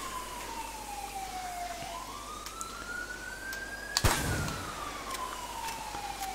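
Police sirens wail in the GTA V video game, a rising and falling tone sweeping through, with a brief loud crash midway and steady background hum.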